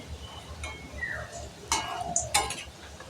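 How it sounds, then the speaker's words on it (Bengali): Palm-juice fritters are stirred in bubbling sugar syrup in a village kitchen, giving soft, scattered scrapes and a few light metallic clinks at low volume. "একটু নাড়া দিয়ে দিচ্ছি"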